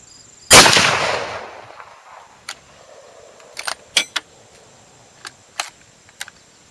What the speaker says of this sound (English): I'm going to fire five rounds.